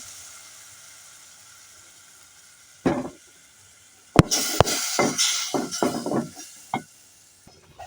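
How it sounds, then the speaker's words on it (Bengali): Tomatoes with ground spices cooking in a little oil in a pan: a faint background hiss, then irregular bursts of stirring and sizzling scrapes clustered close together. "দেখুন ভালোভাবে কষিয়ে ফেলতেছি আমি কিন্তু টমেটোগুলো দিয়ে দেবো"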